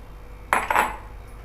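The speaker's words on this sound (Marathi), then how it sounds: "आता एका बाउलमध्ये आपण सर्व जिन्नस एकत्र करून घ्यायचे" A spoon scraping and clinking against a bowl while sweet corn vada ingredients are combined, a short close metallic rattle lasting under a second before quiet returns.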